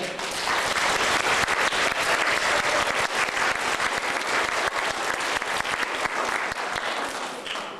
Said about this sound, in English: all the students that were involved, please give yourselves a round of applause